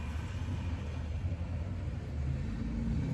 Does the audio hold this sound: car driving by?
yes